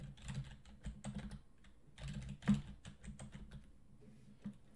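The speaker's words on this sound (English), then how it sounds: "Now that Ubuntu's installed, we wanna type in a username and password." Keys clatter on a computer keyboard as a username and password are entered, irregular bursts of close, crisp clicks with short pauses between groups, alone and without speech.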